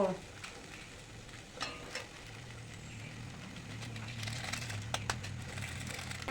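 Spices with salt fried in a pan for a fish-roe and potato dish give a low, steady sizzle, broken by scraping stirs and a few sharp clicks, with no talking.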